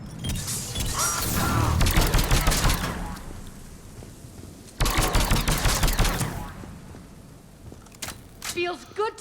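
Rapid automatic gunfire in a Mass Effect 3 firefight, loud and close, with two long fusillades of rattling shots and distant booms, while voices shout over the fighting.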